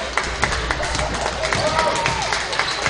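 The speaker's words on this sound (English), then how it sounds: "You can hear the crowd." A crowd murmurs in a school gym during a boys' basketball game, with scattered claps, sneaker squeaks and thuds of dribbling beneath close, steady talk.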